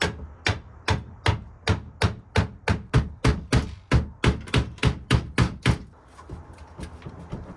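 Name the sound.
hammer pounding RV aluminum shell onto nails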